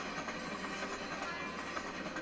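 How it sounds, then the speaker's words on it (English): A train rolls steadily past on the rails, a continuous broadband rumble and rattle holding an even loudness throughout, fairly close and with no voices. "As trains came and went, he created tales."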